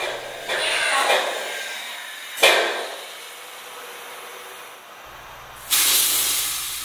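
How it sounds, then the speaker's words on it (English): Pressure sprayer pump pushing water through its lines to prime them, a steady airy hiss with three sharp bursts of rushing spray and a low pump hum underneath, close and fairly loud. "Activate the sprayer and increase the pressure at the pump's regulator."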